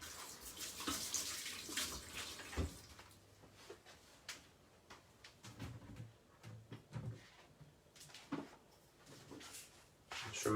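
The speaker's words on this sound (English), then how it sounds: "Just give my hands a little wash." Tap water running into a kitchen sink while hands are washed, a soft hiss rising and falling with splashes and light clatters, fairly quiet and close, with no talk.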